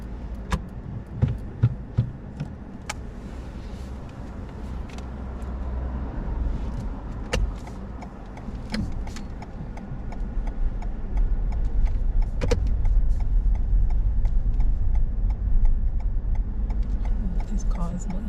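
Car engine rumbling steadily inside a vehicle during a driving test with parallel parking, a low constant drone with scattered light clicks and faint murmuring voices.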